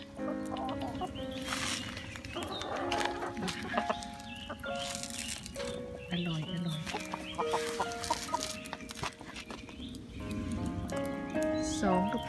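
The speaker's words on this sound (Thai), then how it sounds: "อันนี้เราก็จะดูน้องไก่กินนะคะ" Backyard chickens clucking and squawking while fed boiled oats, with repeated close clucks and calls mixed with rustling and occasional human voices.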